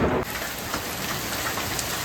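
Heavy rain with hail pounds down during a thunderstorm, a dense, loud, continuous roar of drops striking surfaces close by.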